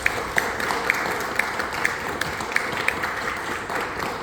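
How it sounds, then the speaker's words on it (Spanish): Scattered applause from an audience at a book fair event welcoming author Margarita Di Giuseppe, steady hand clapping with a few sharper claps standing out over a broad room wash. "Un aplauso para Margarita Di Giuseppe."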